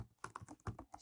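Shift and Enter keys pressed on a computer keyboard to run a notebook cell during a beginner data-analysis lesson: a quick run of several sharp, close plastic key clicks, heard alone and at low level.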